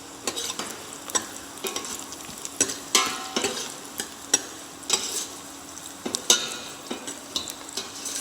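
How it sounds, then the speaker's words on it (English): Whole cloves and peppercorns frying in a pan with oil, a soft sizzle broken by repeated sharp clicks and scrapes of a spoon stirring, close and alone. "In that I am putting cloves and peppercorns."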